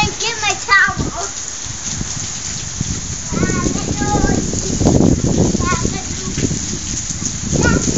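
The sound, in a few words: heavy rain falling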